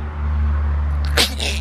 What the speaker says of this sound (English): That was the most unattractive sneeze I've ever seen.